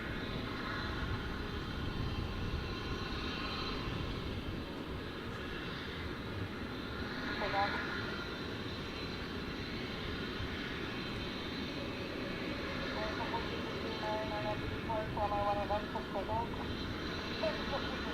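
A steady, distant jet roar from an American Airlines Airbus A321neo arriving at DFW airport in the evening, holding at a low, even level throughout with faint background murmur.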